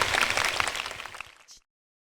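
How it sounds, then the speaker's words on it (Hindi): A crowd at a large religious gathering applauds to welcome a girl who stood up, a loud burst of clapping that fades within about a second and a half into silence. "जोरदार ताली से उस बेटी का स्वागत होना चाहिए।"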